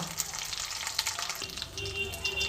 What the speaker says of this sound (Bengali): শিউলি পাতা কিন্তু খুব ভালো মতন ভাজা হয়ে গেছে